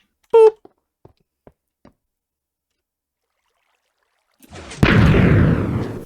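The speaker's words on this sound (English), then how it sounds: "Fireworks." Fireworks in Minecraft: a short launch whistle and a few faint ticks, then a loud, close burst that crackles and fades over the last second and a half.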